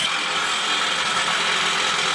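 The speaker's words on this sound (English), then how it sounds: "As you hear the electric jackhammer" An electric jackhammer working at an excavation site, heard as a steady, dense, continuous rattling roar that holds at constant loudness without pause or talk.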